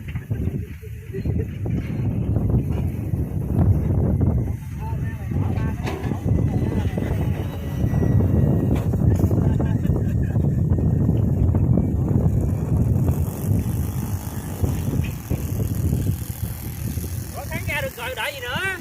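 Gusty wind buffets the microphone at a field where a radio-controlled B-17 model plane is flown, a heavy, steady low rumble lasting the whole stretch with faint voices underneath.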